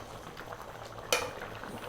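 Greek farmhouse lamb stew bubbling in a pot, a soft, steady simmer with faint gurgles and a single brief clatter partway through.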